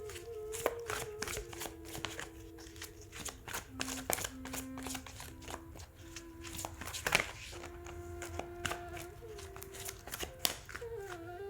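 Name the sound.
tarot cards being shuffled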